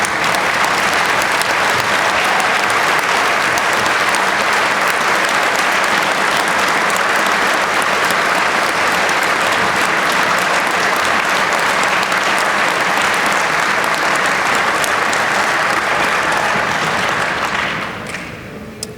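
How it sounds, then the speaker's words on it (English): A banquet audience claps for military veterans with loud, sustained applause from a large crowd, steady throughout before tapering off at the end. "I ask that you stand to receive our appreciative applause."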